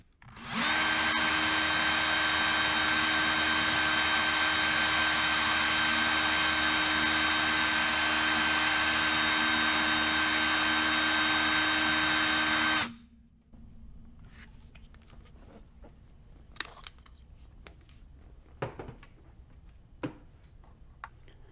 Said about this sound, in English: I'm going to give full throttle to the drill